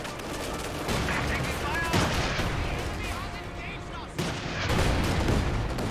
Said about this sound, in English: Jagdpanzer heat rounds hitting the Pershing